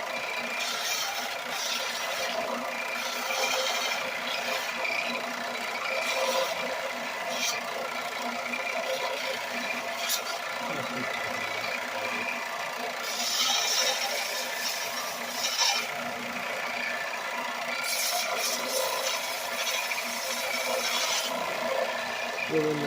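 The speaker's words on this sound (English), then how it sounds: "I'm going to use this high dollar El Cheapo Harbor Freight belt sander" A cheap Harbor Freight belt sander grinds the cut metal ends of a caliper tool in a steady rasping, rubbing drone, close and continuous, with brief lulls as the piece shifts, and no talking.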